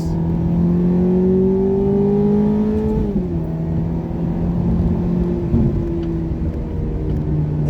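A 2006 Ferrari F430 Berlinetta engine heard from inside while driving, a loud steady drone with a gentle rise then a slight drop as revs settle, continuous and close with no voices.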